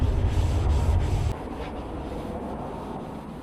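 Scotch pad scuffing the paint of a Jeep Grand Cherokee before a lusterless green paint job, a steady abrasive rubbing that stops partway through and leaves quieter ambient noise behind.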